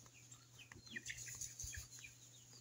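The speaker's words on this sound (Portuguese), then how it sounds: "Aqui é o lugar que as galinhas dormem, gente." Chickens cluck and peep softly in their sleeping coop on a farm, with scattered faint calls and chirps over a low background hum.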